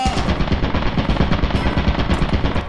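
Turret fire in the Lethal Company video game with the Brutal Company mod, a loud rapid stream of machine-gun shots hammering continuously at close range, with no talk over it.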